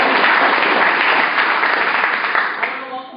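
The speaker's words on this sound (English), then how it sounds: "clap it up for them" An audience applauds President's Team members at a team event, a loud, dense burst of clapping that carries steadily and tapers slightly near the end.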